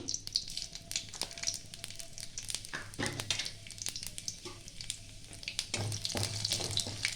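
Bay leaf, dry red chilli and five-spice sizzling in about two spoons of hot mustard oil, a steady crackling fry with sharper spitting bursts, close and alone.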